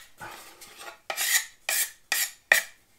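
An old wooden cutting board is scraped in five distinct rasping strokes, a longer softer pass followed by four short, bright, close scrapes with brief pauses between them.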